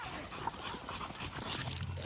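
An American Pit Bull whimpers softly during a walk after a stray dog tried to fight it, a brief faint whine over outdoor background noise.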